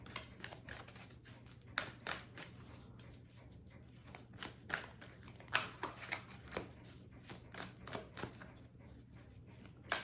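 Tarot cards are shuffled by hand in quick, uneven riffles and soft slaps, close and quiet, continuing for several seconds with no talking.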